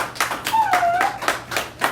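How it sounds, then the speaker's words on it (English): Classroom applause from a group of students, a short burst of quick scattered claps lasting about two seconds with a brief whoop-like voice in the middle. "can you give Dante a round of applause for his guess at the beginning?"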